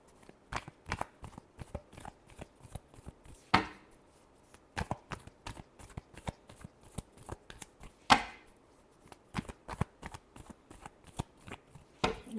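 Tarot cards being shuffled by hand in a quiet room, a steady run of crisp riffling bursts with two sharper bridge-like snaps, heard alone without talk.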